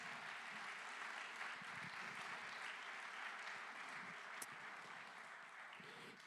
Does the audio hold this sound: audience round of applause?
yes